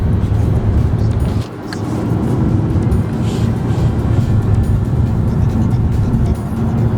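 An MG ZS with a 1-litre turbo engine and automatic gearbox driving on the road, a steady low rumble of engine and tyre noise heard from inside the cabin, with a brief dip in level early on.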